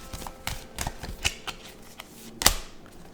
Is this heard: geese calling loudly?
no